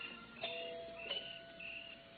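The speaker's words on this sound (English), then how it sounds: "the least he can do is hear his own doorbell" Doorbell chimes at a house in an old-time radio detective drama, two soft tonal dings about half a second apart, faint and slightly distant against a quiet background.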